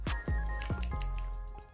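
A pair of scissors is handled up close, giving a quick series of light metallic clicks and snips spaced unevenly over a couple of seconds, with no talking.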